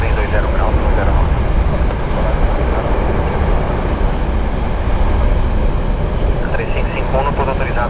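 An Airbus C-30 military transport takes off from Guarulhos airport, a loud, dense jet roar rumbling steadily throughout, close and unbroken, with no clear talk over it.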